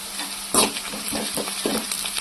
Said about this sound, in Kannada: ಈಗ ಮೆಣಸಿನ್ಕಾಯನ್ನ ಆ್ಯಡ್ ಮಾಡ್ಕೊತಾ ಇದ್ದೀನಿ ಹಸಿ ಮೆಣಸಿನ್ಕಾಯನ್ನ